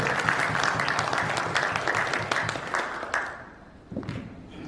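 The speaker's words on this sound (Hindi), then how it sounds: "जोरदार तालियां दोस्तों इनके लिए" Seminar audience applauding for a speaker, dense sustained clapping that fades near the end, leaving a brief quieter patch before a few scattered claps return.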